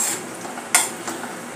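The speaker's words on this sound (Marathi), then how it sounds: "काजू आणि बदाम दोन्ही एकसाथ तळून घेऊया" Cashews and almonds fry together over a low flame for a fasting chivda, giving a quiet sizzle broken by a few sharp spoon scrapes and clinks against the pan.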